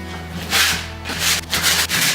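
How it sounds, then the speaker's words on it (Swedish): Repeated abrasive rubbing of sandpaper on wood painted with Annie Sloan Chalk Paint, in steady back-and-forth strokes with brief pauses, close and fairly loud. "jag ska se hur det är att slipa på den här färgen"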